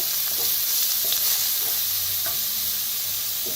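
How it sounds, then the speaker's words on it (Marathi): Curry leaves and a ground spice paste for vada pav fry in a pan with a continuous close hiss and sizzle, broken by light stirring scrapes throughout. "कढीपत्ता आणि जे वाटण बनवून घेतलं होतं ते आता भाजून घेऊया।"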